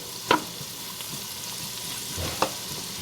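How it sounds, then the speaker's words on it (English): Vegetables with crushed garlic sautéing in a pot for broccoli cheddar soup, a steady soft sizzle with a couple of sharp utensil clicks, close, no talk. "we're gonna saute this for just a couple minutes"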